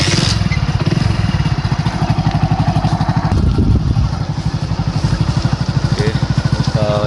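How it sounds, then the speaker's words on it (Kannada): A motorcycle engine runs loud and close during a ride through a forest, its steady rumble continuous throughout, with faint voices mixed in beneath. "ಗಾಡಿ ಸೌಂಡ್ ಇರುತ್ತೆ, ಯಾರು ಬೇಜಾರು ಮಾಡ್ಕೊಂಡ್ಬಿಡಿ."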